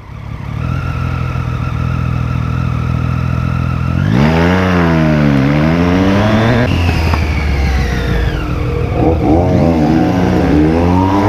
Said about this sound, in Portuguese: Eu escuto motos.